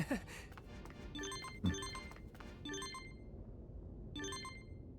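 Phone ringtone chiming in a Digimon Story: Time Stranger game, a few short tonal bursts repeating over busy in-game background sound.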